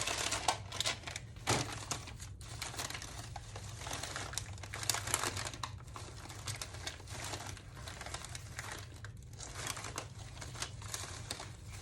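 A piece of book-page paper is handled and crinkled close up, giving a continuous run of dry rustles and soft crackles with no talking.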